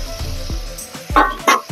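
Chicken turmeric-and-salt mix being stirred in a hot pan, giving a close, steady sizzle punctuated by several louder scraping bursts from the spoon.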